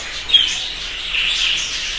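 Budgerigars chirp and warble continuously in breeding cages, a steady bright twittering chorus at moderate loudness with one sharper call near the start, no voices.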